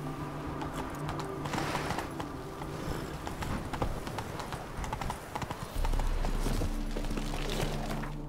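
In The Witcher 3, the horse Roach gallops with rapid, rhythmic clip-clopping hooves, joined near the end by a low steady drone.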